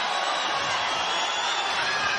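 A boxing arena crowd rises and cheers for Edgar Berlanga in the tenth and final round of his bout against Steve Rolls, a loud, sustained roar filling the hall without a break.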